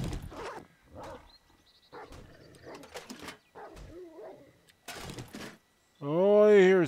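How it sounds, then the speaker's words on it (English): In the video game 7 Days to Die, several short dog barks ring out among footsteps and small clatters, followed by a loud, drawn-out animal growl or roar near the end. "Oh, I hear somebody barking around out there."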